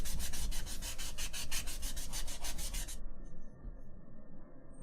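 Rapid back-and-forth sanding strokes rasp steadily on a 3D printed model ship part, close up, about fifteen even strokes before stopping abruptly, leaving a low room hum.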